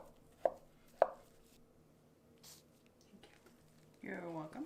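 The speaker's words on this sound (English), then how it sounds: "And then you chop." Knife chopping potatoes on a board for a classic potato salad, heard as two sharp close cuts early on, then a burst of quicker chopping at the end, with a voice heard faintly in between.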